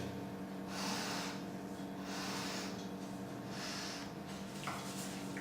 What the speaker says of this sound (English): So let's give this a quick sniff.